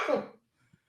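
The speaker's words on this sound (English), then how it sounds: "stupid cough" A single short, harsh cough from an adult, close and dry, followed by a faint breath and brief quiet.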